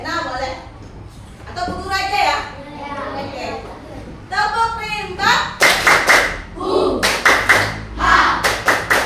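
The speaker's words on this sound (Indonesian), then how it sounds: "kita tepuk rimba dulu ya supaya semangat" Fifth-grade schoolchildren in a classroom chant a rhythmic tepuk rimba together, voices rising in unison before sharp, evenly spaced claps and hand slaps join in, loud and close.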